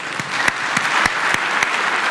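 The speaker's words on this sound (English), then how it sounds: "Let's give this panel a big round of applause." An audience applauds a panel: a steady, moderately loud patter of many hands with a few sharper claps standing out, no voices over it.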